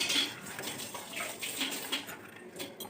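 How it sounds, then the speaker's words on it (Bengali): Tomato and chopped onion being mashed in a pan, quiet wet squelching and scraping with faint clinks of a utensil against metal, close and uneven, no voices. "এটাকে ভালো করে ম্যাশ করে নেব। টমেটো আর পেঁয়াজটাকে ভালো করে ম্যাশ করে নিয়েছি।"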